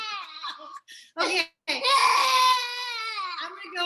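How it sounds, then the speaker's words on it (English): A distressed baby cries in loud, sustained wails with brief breaks, close by, while an adult speaks briefly over it. "that sound is beautiful of the child crying"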